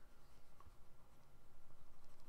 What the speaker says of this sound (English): So let me erase this guy real quick.